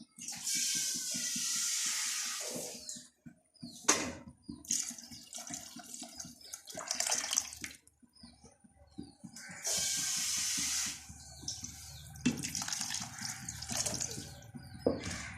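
Water pours into a cooking pot for mandi rice in several bursts. Each gush is steady and hissing, and short pauses and clinks fall between the pours.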